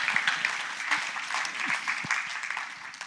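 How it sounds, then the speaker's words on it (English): A church congregation claps in a sustained, even wash during a sermon, with a few low thumps and scattered voices beneath. "Yeah, let's clap."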